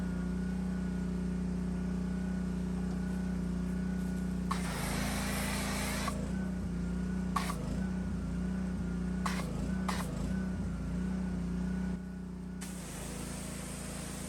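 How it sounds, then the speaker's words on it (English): Pressure washer running with a soap cannon attached, the rig mounted on the back of a tractor, a steady engine drone with hissing spray bursts that come and go throughout. "bring out my soap cannon, and it's connected to my pressure washer"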